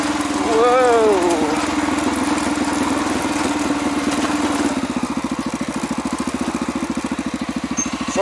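A Honda XR650L motorcycle rides over a gnarly rocky road. Its close engine drones steadily, then turns into a rapid, throbbing putter, and a brief voice rises early on.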